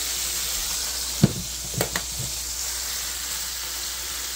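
Hamburger patties sizzling in a frying pan after being flipped and seasoned, a steady frying hiss with a few sharp pops and spatters.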